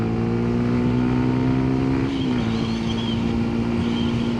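A Yamaha MT-125 motorcycle pulls in third gear at about 20 mph, its engine a loud, steady drone with a brief dip in pitch around the middle before it carries on evenly.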